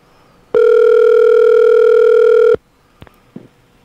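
Outgoing telephone call ringing: one loud, steady two-second ring tone on the line, followed by a few faint clicks and quiet.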